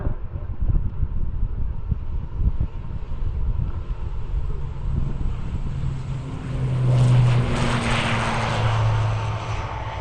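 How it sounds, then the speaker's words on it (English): An ATR 72 turboprop airliner takes off at the Farnborough International Air Show, a loud propeller and engine roar that builds and whines higher toward the end, mixed with wind buffeting on the microphone. "The Wingwalkers of the ATR 72 starts its takeoff."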